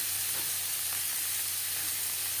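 Four medium chopped onions sizzling in hot oil for a rui fish curry with potatoes: a steady, fairly quiet frying hiss with no voices.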